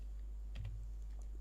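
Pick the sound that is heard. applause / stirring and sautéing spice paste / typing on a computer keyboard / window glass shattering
typing on a computer keyboard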